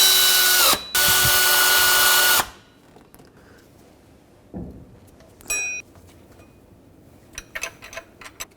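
A power tool snugs the serpentine belt tensioner nuts on a 2001-07 Toyota Sequoia in two loud, close whirring bursts with a short break between, then a few faint metallic clinks and taps.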